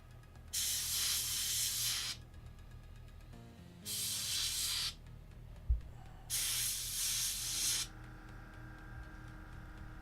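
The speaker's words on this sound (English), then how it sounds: "Either spray can or standard camo color black." A spray can of black camo paint hisses in three separate bursts, each one to two seconds long, close and fairly loud, with quiet gaps and a small knock between them while painting 1/35 scale model vehicle parts.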